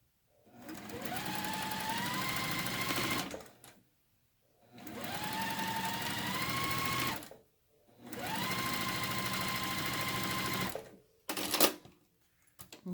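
Sewing machine stitching a quilted mug block handle with a quarter-inch seam, running in three steady bursts of about three seconds each with short pauses between, followed by a few quick clicks at the end, heard close with no talking.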